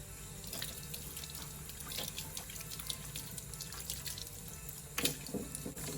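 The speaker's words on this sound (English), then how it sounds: "And then we go to the sink and we rinse it out." A container being rinsed under a running kitchen sink tap after washing with dish soap: a steady stream of water splashes continuously, with small clinks and a brighter splash near 5 s.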